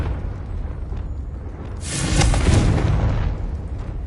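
A Confringo fire spell blasting in Hogwarts Legacy on PS5: a low rumble builds into one heavy, close explosive boom with a crackling burst that fades after a couple of seconds.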